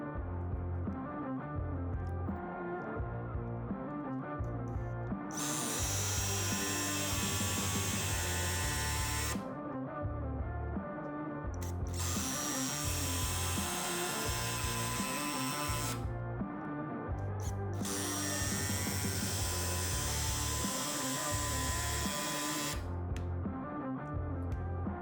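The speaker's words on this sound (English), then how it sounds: "This first test involves these RSS screws and where I drive them into our laminated block of material here." A Bosch impact driver sinks RSS screws into a laminated wood block in three distinct loud bursts of high-pitched whirring and rapid hammering, each a few seconds long, separated by short pauses, all over a steady low hum.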